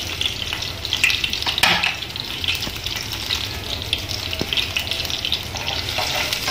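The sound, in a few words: frying squid and beef balls in a pan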